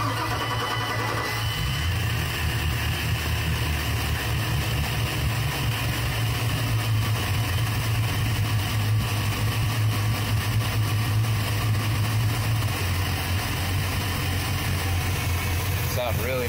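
Twin engines of a used 2003 Larson 310 Cabrio boat idle steadily at the dock in Riverview, Florida, a continuous low rumble held at close range for the whole stretch.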